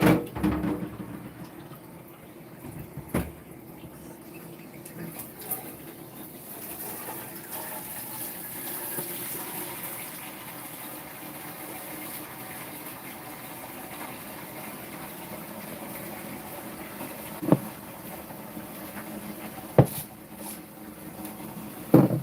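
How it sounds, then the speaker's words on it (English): Tap water runs steadily while dishes are washed at a kitchen sink, a continuous hiss broken by a few sharp clinks and knocks of dishware. "you hear water because I'm washing dishes"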